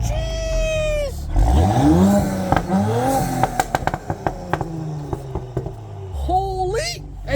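Tuned B9 Audi S5 with a Stage 2 ECU tune revs hard while stationary, its exhaust spitting a rapid string of loud sharp crackles and pops, with excited voices shouting over it.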